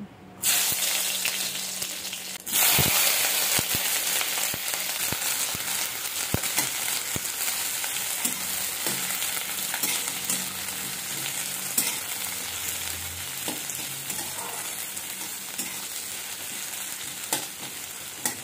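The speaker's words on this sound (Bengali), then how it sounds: "এরপর আমি কড়াইতে সর্ষের তেল দিয়ে রসুন আর পেঁয়াজ ভালো করে লাল লাল করে ভেজে নেব।" Garlic and onion fry in mustard oil in a wok, making a continuous close sizzle with occasional stirring clatter, broken by a brief sharp knock near the start.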